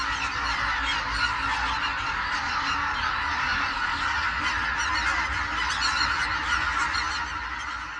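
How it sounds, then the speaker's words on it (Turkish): Flock of migrating geese honking continuously, a dense, steady chorus of many overlapping calls at close to moderate distance arriving at wintering lakes, with no talking. "Kazlar, kuğular ve ördekler tamamen donmayan göller bulma umuduyla buraya geliyor."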